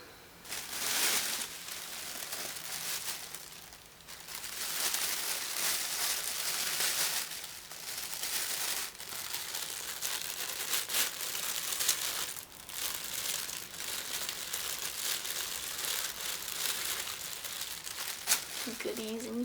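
Prolonged crinkling and rustling of a plastic bag being handled up close, in bursts with brief pauses, fairly quiet overall.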